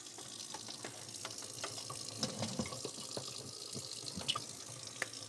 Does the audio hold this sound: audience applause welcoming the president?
no